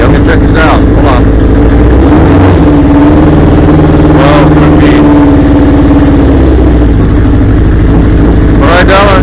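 On a cold, rainy day a Honda CB750 motorcycle engine revs loudly and close by, rising and falling in pitch, while people talk over it.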